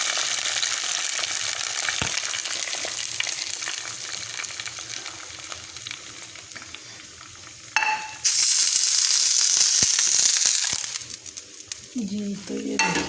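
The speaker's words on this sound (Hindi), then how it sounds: "इसके ऊपर तड़का लगाऊंगी" Loud, steady sizzling of spices dropped into hot oil as a tempering for moong dal khichdi, with a sharp burst of crackling partway through before the frying settles down again.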